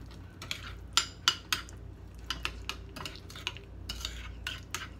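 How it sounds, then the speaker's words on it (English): A spoon stirs crab sauce with a capful of apple cider vinegar in a bowl, giving a run of close clinking scrapes in irregular bursts with quiet gaps between them, and no talking. "We're gonna give that a good little stir."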